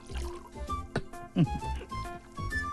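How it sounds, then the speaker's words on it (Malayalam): Liquid is poured into a cup, giving short gurgling, dripping fill sounds that run under voices and room noise. "കപ്പ് നിറഞ്ഞില്ലേട്ടാ. ഇത്തിരി നിറഞ്ഞ മതിട്ടോ."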